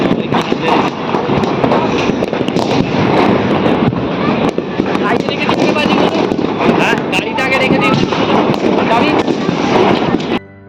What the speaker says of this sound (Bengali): এখানে বাবু আর সাহেব বাজি ফাটাচ্ছে